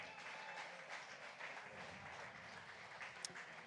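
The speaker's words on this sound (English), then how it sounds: "How about another round of applause" Audience applause at a pub talk in a brewery, an even wash of many hands clapping that holds steady from start to finish, fairly distant and with no voices on top.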